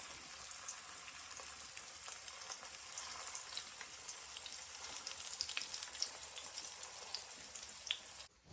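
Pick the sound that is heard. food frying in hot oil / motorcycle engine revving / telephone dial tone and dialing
food frying in hot oil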